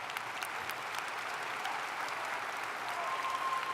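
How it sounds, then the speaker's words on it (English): A graduation crowd at a business and economics college applauds parents and family, a broad steady roar of many hands clapping heard at a distance, faint and even throughout. "Give them a round of applause"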